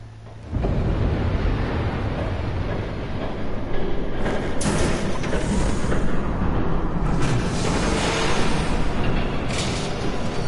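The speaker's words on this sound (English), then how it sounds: "There's a train coming." A train rushing past in a Batman video game, a loud sustained rumble with rattling clatter that starts abruptly and builds, with brief surges as cars go by.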